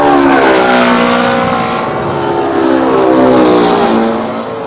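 An airplane passes at Hong Kong International Airport, its loud engine drone holding steady and then sliding downward in pitch as it moves away, with the roar easing slightly near the end.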